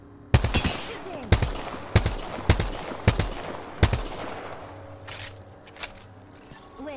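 Gunfire in the video game Apex Legends: a series of loud, sharp single shots spaced about a second apart, followed by fainter, scattered shots further off.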